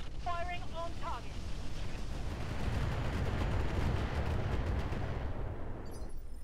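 Mech weapons firing Thunder ammo in Roguetech, a steady rumbling roar of distant artillery-like fire that fills several seconds, with brief electronic beeps at the start and end.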